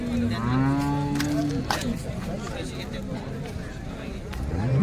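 Cows mooing, a loud drawn-out low call near the start followed by more bellows, amid a market-like crowd hubbub with people talking; cattle for sale in Nandeshwar, Mangalvedha, Solapur.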